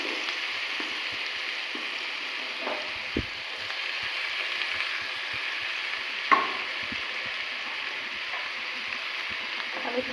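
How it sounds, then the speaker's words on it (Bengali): Banana stem frying in a little oil in a wok, a steady close sizzle and crackle running throughout, with a few soft stirring knocks along the way. "এবার আমি কড়াইতে অল্প পরিমাণ তেল দিয়ে দেব। এবার এতে ভাজতে দেব থোড়টাকে।"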